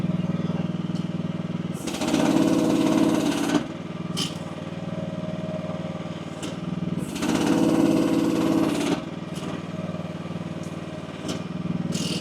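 A small engine runs steadily on an AGT WH12R mini excavator while the hydraulic stick and bucket are worked, the engine note rising and straining in two long surges and then settling back to a steady drone.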